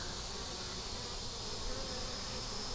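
Honeybees on a hive frame hum in a steady, dense buzz, a continuous swarm drone at moderate volume with no talk.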